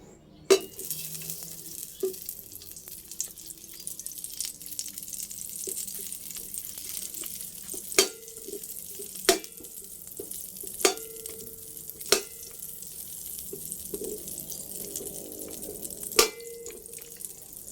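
Butter melting in a pan while cooking tofu sisig gives off a steady soft sizzle, broken by sharp clicks and knocks of utensils against the pan.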